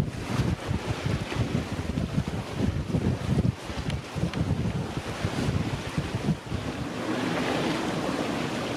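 A sailboat heeling in strong wind, reefed sails and waves on the Gulf of Gökova; steady roaring wind noise buffets the microphone over continuous sloshing water and hull splashes, loud and close throughout.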